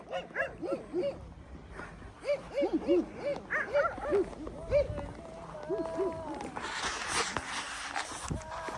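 A dog barks over and over in quick, loud bursts, close by, with people talking around it.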